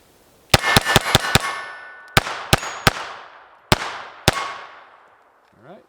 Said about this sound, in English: Moving on to the Glock 44. Here we go, last 2 mags.